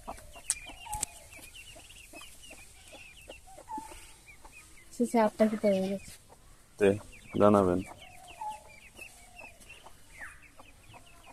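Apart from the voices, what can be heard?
duckling chicks peeping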